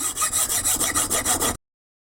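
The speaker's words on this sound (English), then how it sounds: "put your blade down and just cut it off there with the hacksaw" A hacksaw cuts through the plastic slip ring on a Valeo alternator shaft, with a steady back-and-forth rasp of about eight close strokes before it stops abruptly.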